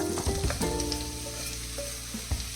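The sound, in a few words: vegetables frying in hot coconut oil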